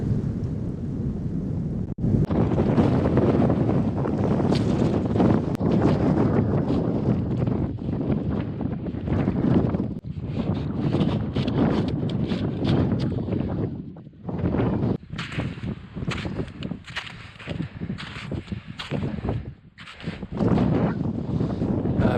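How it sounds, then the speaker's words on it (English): Strong wind roars across the microphone just below the snow-covered summit of Black Mountain at nearly 11,000 feet, a loud, continuous buffeting with gusty surges and brief lulls, no voices. "The wind has been really picking up as I've been climbing."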